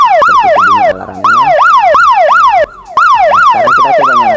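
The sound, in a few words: network ONU device power-off alarm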